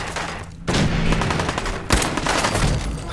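Loud, close bursts of automatic gunfire from a Fallout 4 firefight, dense rattling volleys running almost continuously with a short pause before a fresh burst.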